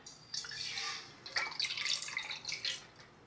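Water poured into a pan on a stove for making rice pudding, a close, bright splashing trickle in uneven bursts, heard alone.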